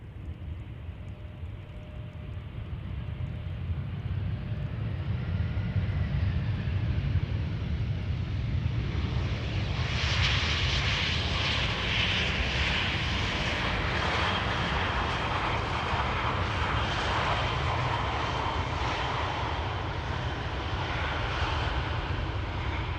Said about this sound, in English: A319, arriving from Milan, 1 hour 26 minutes.